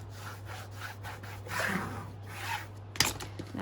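Fabric is pressed and rubbed firmly onto a hardcover journal by hand, giving a series of soft, rhythmic scuffing strokes close by, ending with a small sharp tap.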